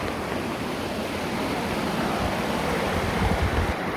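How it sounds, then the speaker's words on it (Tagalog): A clear natural stream in Masinloc flows with a steady, broad murmur and rush of water that holds level throughout, with no voices. "Nakikita nyo naman itong lagaslas na lang ng tubig"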